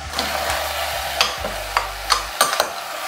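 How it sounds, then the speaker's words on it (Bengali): Vegetables and chicken are stirred in a frying pan over a low sizzle. A handful of sharp spatula scrapes and taps stand out up close, with a low hum beneath. "একটু সবজিগুলোকে হালকা হাতে নেড়ে চিকেনটা অ্যাড করে দিচ্ছি"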